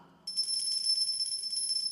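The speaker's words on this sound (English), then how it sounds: "sometimes we like to shake the bells" A church handbell choir's highest handbell is shaken rapidly, giving a bright sustained ringing tremolo that starts suddenly after a quiet moment and holds steady to the end.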